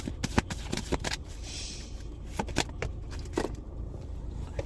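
Tarot cards riffle and snap in quick, uneven bursts of papery shuffling, close and crisp, running continuously without any voices.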